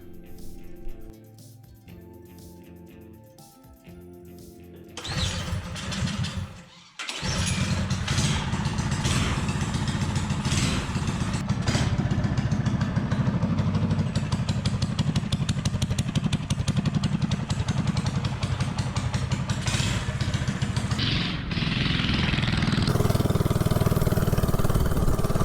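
A mini bike with a J-B Weld head gasket starts up after some quiet handling, then its small engine runs steadily with a loud, close, rattling drone and rises in pitch near the end.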